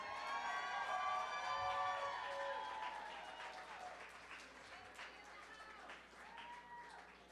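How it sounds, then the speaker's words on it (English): An audience at an evening reception honoring women applauds the final group of honorees, with a lively crowd clapping, cheering and whistling that is loudest early and then settles into steadier, slightly fainter applause. "Let's clap it up for our last group of ladies that we'll be honoring tonight"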